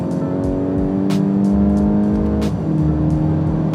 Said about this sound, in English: 7-speed dual clutch that just fires off super crisp, super yummy shifts